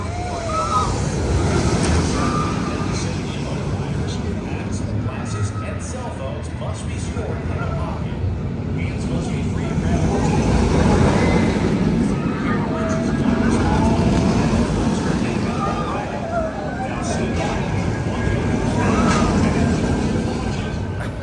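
Copperhead Strike roller coaster ride at Carowinds in Charlotte, with heavy rushing wind buffeting the microphone and a rumbling track roar lasting throughout, plus voices shouting and talking over the din.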